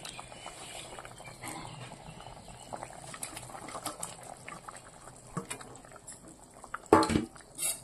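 A potato, pointed gourd and paneer curry simmers in a pot with soft, continuous bubbling and patter, then a brief louder clatter just before the end.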